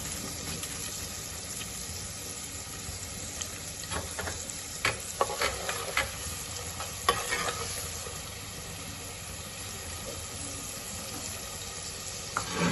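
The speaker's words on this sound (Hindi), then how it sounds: "फ्लेम स्टार्ट करके घी डाल दिया, घी मेल्ट हो गया। अब इसमें हमने प्याज डाल देने हैं।" Onions frying in melted ghee in a pan for kadhi pakora, a constant close sizzle with a burst of crackling and stirring clatter near the start, no talking heard.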